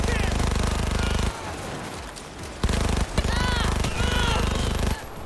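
Rapid automatic gunfire in Cyberpunk 2077 with a ricochet build, sustained bursts broken by short pauses, loud and close, with game effects chirping over it.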